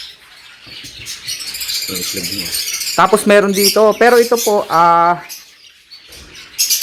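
Green cheek conures and other parrots chatter and squawk at a bird farm, a busy mix of shrill calls and harsh cries close by, with someone talking over them.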